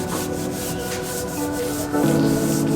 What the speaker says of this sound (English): I'm using some steel wool and mineral spirits to then scrub and wipe away any of the excess citrus strip here